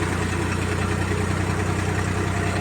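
A tractor engine idles close by, a steady low, throbbing rumble that stays even throughout.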